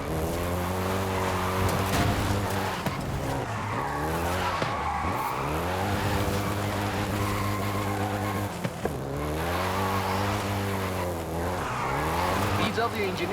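A Volkswagen Golf GTI driven hard in the racing game Forza Horizon 5, its engine revving and shifting in repeated rising sweeps with tire squeal, loud and continuous beneath a narrating voice.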